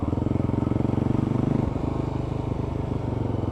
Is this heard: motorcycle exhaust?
yes